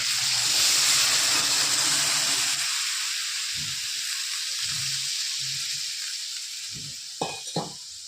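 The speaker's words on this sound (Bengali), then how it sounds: "এবার দিয়ে দেবো পরিমাণ মতো জল" Water poured into a hot pan of frying kajli fish curry sets off a loud, steady hiss that gradually settles into a softer simmering sizzle, with a couple of sharp utensil clinks near the end.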